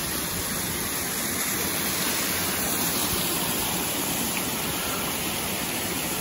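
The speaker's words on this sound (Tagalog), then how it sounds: "Ganda ng falls dito." Steady, full-band rush of a waterfall at Bukid Adventure in Sorsogon, a constant close roar of falling water with no breaks and no voices.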